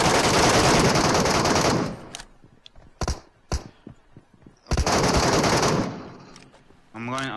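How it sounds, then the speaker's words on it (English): Gunfire in PUBG Mobile near Rozhok bridge: a loud sustained automatic burst, a few sharp single shots in the lull, then another long rattling volley, close and dominant. "The boss is shooting somebody."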